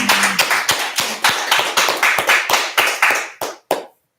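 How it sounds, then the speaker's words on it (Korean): A small group claps in a church setting, about a dozen loud, distinct beats in a quick, slightly uneven rhythm close by, trailing off into a couple of final claps and silence. "일단 박수. 일단 박수."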